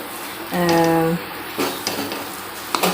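Ginger, garlic and onion frying in a pan as part of a home recipe, with a clattering stir and scrape of utensil against metal, then quieter sizzling and light knocks close by.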